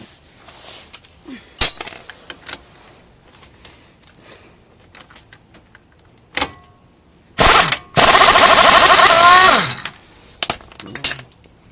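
A 32 mm socket is handled while removing a car's axle nut on an early-2000s Chevy Optra, giving scattered metallic clinks and rattles between quiet gaps, then a sustained loud ratcheting burst of about two seconds and a few trailing clanks.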